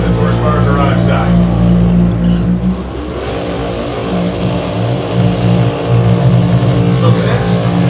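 Dodge Hemi drag race cars, a Hell's Hemi and a flame-painted Hemi Dart, rumble loudly together at a drag strip, their heavy engines burbling and revving steadily while announcer-style talk runs over the top.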